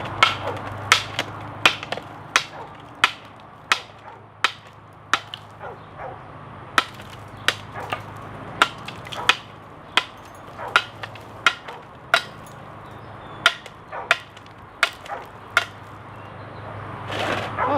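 Zero Tolerance 0180 knife struck repeatedly in a destruction test, sharp loud chopping impacts landing roughly every second in a steady rhythm, close up over faint background hum.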